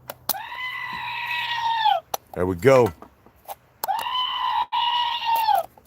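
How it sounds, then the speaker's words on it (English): A goat button plays a long, loud goat scream twice, nearly identical bleating cries separated by a brief burst of a man's speech. "That's the goat button right there."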